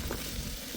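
Cabbage sautéing in a pan, a soft, steady low sizzle, faint and close, with no talking.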